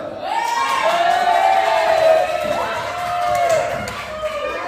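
A classroom audience cheers and shouts for three contestants during a quiz, loud and sustained. Excited voices whoop and call out throughout, with clapping buried beneath the shouting.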